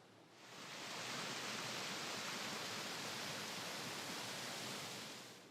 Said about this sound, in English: we finally came to one of the most spectacular waterfalls in the state